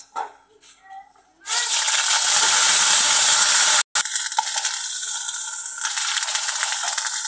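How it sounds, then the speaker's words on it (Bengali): Garlic and ginger paste drops into hot oil left from frying bual fish and bursts into a loud, dense sizzle that cuts out for an instant, then keeps hissing steadily. "এবার এই মাছের তেলের মধ্যে আমি দিয়ে দিচ্ছি প্রথমে রসুন বাটা 1 চামচ, আদা বাটা 1 চামচ"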